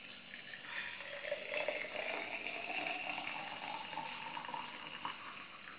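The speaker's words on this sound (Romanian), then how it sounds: "Și punem apa peste." Water poured into a pot over leaves for tea, a soft, steady trickling splash that runs for several seconds, quiet and close with no talking.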